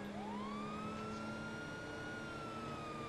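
Wailing ambulance siren in Grand Theft Auto, a single sustained tone rising then holding steady, loud and close throughout, with no talking.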